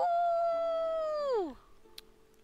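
A human voice imitates a wolf howl during a tabletop Dungeons & Dragons game, one long sustained tonal howl that holds steady and then slides downward before breaking off, followed by quiet room noise.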